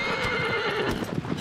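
Horse neighing and hooves in Shadow of the Colossus, with a whinny over a continuous bed of clip-clopping hoofbeats and game ambience, close and steady throughout.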